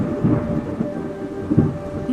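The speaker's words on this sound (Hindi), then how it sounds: "बादल गरजने लगते हैं और जोरदार बारिश शुरू हो जाती है" Thunder rumbles low beneath a steady wash of heavy rain in a cartoon storm scene, with deep rolling booms swelling twice over the continuous downpour.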